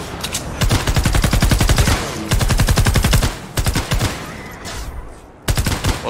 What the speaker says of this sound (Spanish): ahora se hacen disparos.